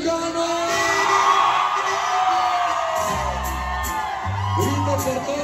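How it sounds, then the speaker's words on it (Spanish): A crowd at a packed sonido dance night in Raleigh, North Carolina lets out the Mexican grito, long rising whoops and yells layered over loud music with a few sharp bursts near the end. "Y arriba el pinche grito mexicano"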